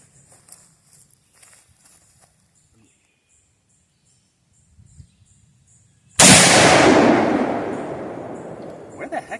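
A single loud rifle shot from a Carcano M1891 TS chambered in 6.5x52, fired outdoors at a can, cracks out after quiet shuffling and handling noises, followed by a long, slowly fading echo.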